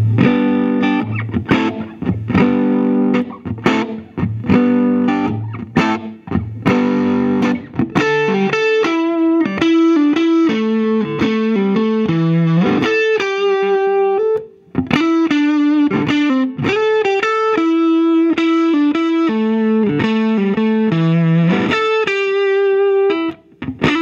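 A 1979 Gibson Les Paul Deluxe Goldtop played on its neck pickup alone through a Fender Deluxe Reverb amp, starting with strummed chords and moving into picked melodic lines and ringing notes, loud and close with no talking.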